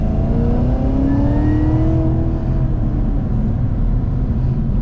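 A 2019 Cadillac CTS-V engine revving under acceleration, heard from inside the cabin as a loud, steady, deep roar with rising whining tones sweeping upward, continuous throughout.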